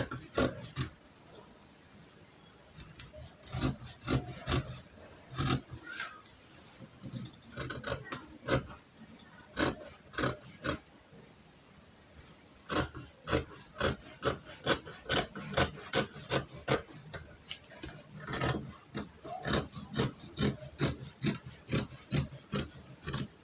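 Scissors snip through gown fabric in a long run of crisp, rhythmic cuts, close and clear, pausing briefly before continuing in quicker steady strokes.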